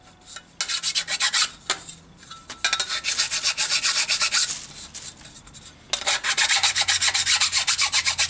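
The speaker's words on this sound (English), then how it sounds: "I've just gone through and taken all the burrs off the back from the drilling process" A hand file rasps burrs off the back of a freshly drilled metal bracket in a garage, with repeated scraping strokes in uneven bursts, close and fairly loud, separated by short pauses.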